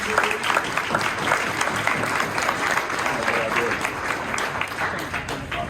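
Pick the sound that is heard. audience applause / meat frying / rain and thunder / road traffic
audience applause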